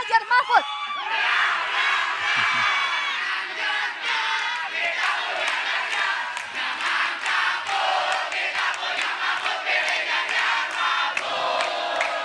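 Supporters at a presidential debate cheer, shout and clap for a long stretch as a dense, energetic crowd roar, with whoops and chants rising and falling throughout.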